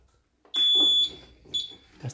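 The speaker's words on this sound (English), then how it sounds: "That's the reverse beep." A loud, high-pitched electronic reverse beep from a mobility scooter sounds for about half a second, followed by a shorter second beep; a faint mechanical rattle sits underneath.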